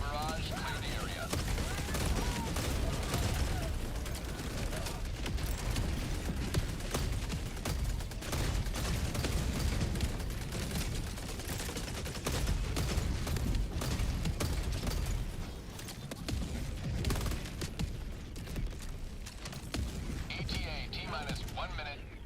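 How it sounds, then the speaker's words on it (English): Dense, continuous barrage of explosions and heavy fire from an orbital strike in the video game Battlefield 6, loud and rumbling for the whole stretch, with voices and game chatter mixed in. "Firing orbital barrage. Clear the area."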